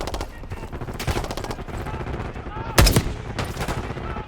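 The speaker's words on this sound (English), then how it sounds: "We're taking heavy fire at the helo." Heavy automatic gunfire in the Call of Duty Black Ops 6 video game, with dense rapid bursts and sharp loud reports, including a big blast near the three-second mark, over a busy battle soundscape.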